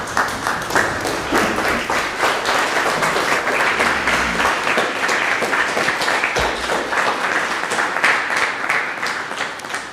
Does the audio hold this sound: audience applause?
yes